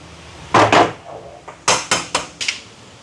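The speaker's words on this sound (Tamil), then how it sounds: "இப்போ இதை வந்து மூடிட்டு வேறு அடுப்பில் வைப்போம்" A metal cooking pot used to steam idli gets its lid put on and is shifted to another stove: a pair of sharp, close metallic clanks, then a rapid series of four lighter knocks and scrapes.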